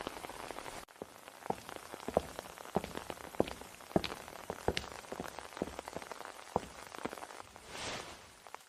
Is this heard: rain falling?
yes